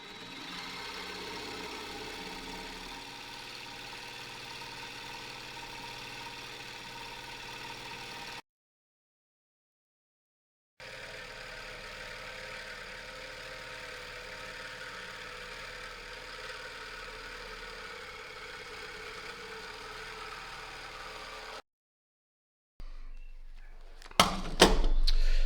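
A power saw grinds slowly through steel with a steady, buzzing, vibrating whine, broken by two short silent pauses and ending in a few sharp clattering knocks.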